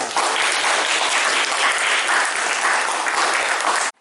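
An audience at an Indonesian classroom gathering claps together for about four seconds, dense and steady, then stops abruptly, with no talking.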